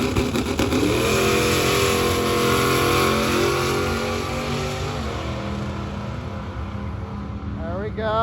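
Twin-turbo LS-powered Camaro on a drag strip pass, engine roaring loud and close with a steady high-rpm drone and rising, shifting harmonics throughout, easing off near the end.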